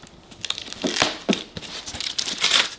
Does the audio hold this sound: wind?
no